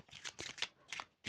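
Quick riffle shuffles of a tarot card deck, several short papery bursts in succession, close and fairly quiet.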